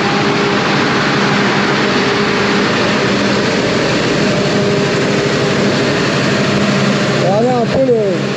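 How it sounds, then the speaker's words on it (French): Twin Scania V8 turbo diesel engines run steadily with a loud, dense broadband roar that fills the whole clip, with a brief rising and falling tone near the end. "Regardez un peu le moteur là. Deux V8 Scania turbo."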